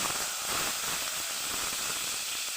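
Steady loud sizzling hiss of olives, soaked in lukewarm water, frying in hot oil for a sour olive dish with small fish, a dense continuous crackle with no breaks.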